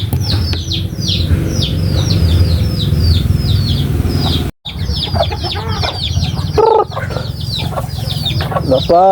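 Pet chickens cluck busily at feeding time, with a rooster and hens close by. Repeated sharp calls overlap continuously throughout, briefly cut by a moment of silence midway.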